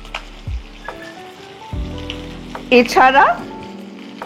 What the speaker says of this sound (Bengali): এগুলো এই তেলের মধ্যেই একটুখানি সরিয়ে সরিয়ে কষে নিতে হবে